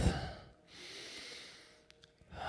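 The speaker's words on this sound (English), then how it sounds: "And taking a deep breath" A single slow, deep breath drawn in and let out during a quiet guided group exercise, soft and close with little else around it.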